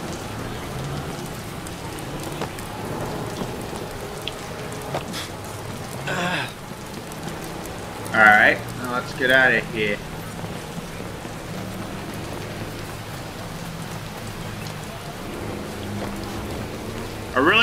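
Steady rain in the video game Watch Dogs patters on a surface throughout, a constant hiss under a voice speaking briefly midway.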